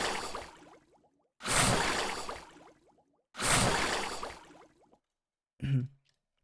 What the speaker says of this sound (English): And this acid splash sounds like this.